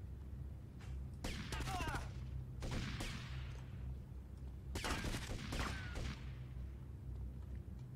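Two clusters of pistol shots in GTA: Vice City, each a quick run of sharp cracks, with steady low background game noise in between and a voice talking at times.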